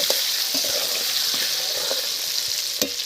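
Potatoes frying in hot oil with turmeric and salt, a steady close sizzle with faint scrapes and taps of stirring scattered through it, with no talk.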